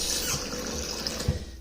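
Water running from a tap into a metal wax pan during a leak test, a steady broadband splashing stream close by with a couple of low thuds, no talking.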